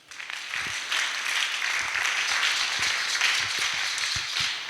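A church congregation applauds to acclaim the Lord, a steady, close wash of many hands clapping that starts abruptly and holds at an even level throughout, with a few sharper individual claps standing out.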